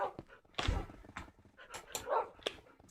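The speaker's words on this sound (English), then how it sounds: "watching all my dogs go ham on all the bad guys" Dogs bark and yip in bursts during a video game as they attack enemies, with a few short sharp yelps and a thunk over busy game sound, moderately loud and fairly close.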